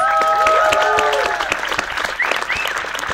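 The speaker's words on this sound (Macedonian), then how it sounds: "Аплауз." Close, dense applause from an audience at an evening talk event, loud at first and then thinning slightly while a voice carries over the clapping.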